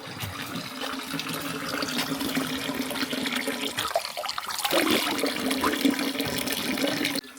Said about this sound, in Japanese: 炭酸水がボコボコ湧いてます。